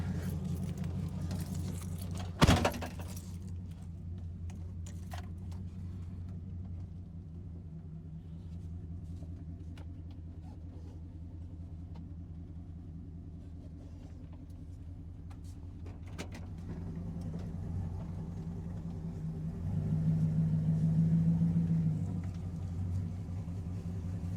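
A 1999 Dodge Ram pickup truck engine rumbles steadily at idle and low speed, with a sharp clunk near the start and the engine swelling louder toward the end.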